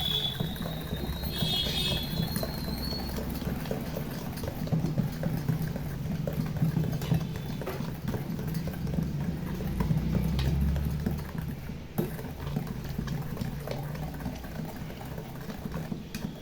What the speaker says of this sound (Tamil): இந்த மாதிரி கொஞ்சம் பீட் பண்ணிக்குவோம். நல்லா பீட் பண்ணிக்கிட்டா நல்லா மிக்ஸ் ஆகிடும்.